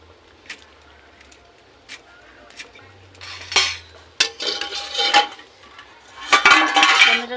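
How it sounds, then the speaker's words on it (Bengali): A kitchen knife cuts beetroot on a board for homemade tomato sauce, giving a few sparse clicks and then bursts of close, crisp chopping and scraping that grow busier toward the end, with no talking. "এই দেখুন বিট কাটতেছি"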